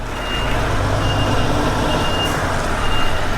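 A heavy truck backing up on a job on the outskirts of London, its reversing alarm beeping in a regular rhythm over a low, constant engine rumble, fairly close and without talk.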